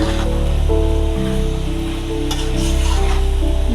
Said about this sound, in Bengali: দেখেন একটু নাড়াচাড়া করে দেখেছি শাকটা কত সুন্দর দেখা যাইতেছে এখন কষাইতেছি